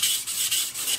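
A kitchen knife being sharpened on a whetstone at a low bevel angle gives a steady, close-up rasping scrape in repeated strokes, with no voices.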